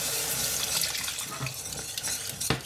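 Milk is poured into a toasted flour roux while a whisk keeps stirring to make béchamel for fish croquettes, a continuous liquid pouring and sloshing hiss with a soft knock near the end, no voices.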